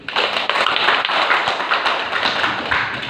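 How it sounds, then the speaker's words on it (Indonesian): An audience at a school storytelling contest applauds, a dense burst of clapping that holds steady for about three seconds. "sekali lagi kita aplaus Maria"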